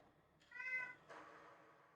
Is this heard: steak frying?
no